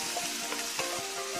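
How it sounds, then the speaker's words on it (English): Carrots sizzling in a stir-fry pan with a splash of soy sauce, a steady close hiss and crackle with small pops and stirring clinks throughout. "You can hear it sizzling away."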